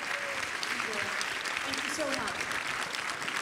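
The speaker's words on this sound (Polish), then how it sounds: "Ogromne brawa." Steady applause fills a hall at a Polish conference session on defending European values, moderately loud and continuous, with faint voices murmuring beneath the clapping.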